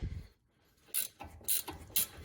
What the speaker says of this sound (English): I've got a ratcheting one of these.